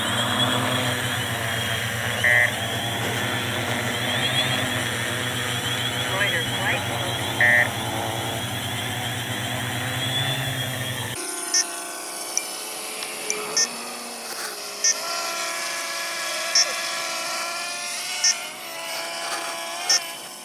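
Electric motors of an RC aircraft with landing gear arm and spool up for takeoff, a steady high whine with shifting pitch continuing into flight, and a voice speaks over it.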